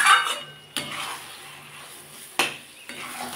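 Cauliflower paste frying in a pan for a cauliflower bhorta, with a soft steady sizzle broken by a few sharp clinks of a utensil scraping and stirring against the pan.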